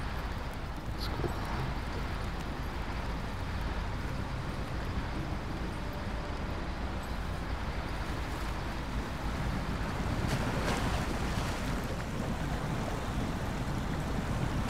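A truck in the SnowRunner video game drives through river water on the Albany River in Ontario, giving a dense, continuous rushing wash of water and engine rumble that stays loud and steady throughout, with no talk.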